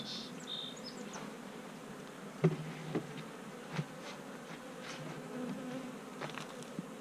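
Honey bees buzz around freshly opened beehives in the open air, a soft, continuous hum with scattered close passes, light handling knocks now and then, no talking.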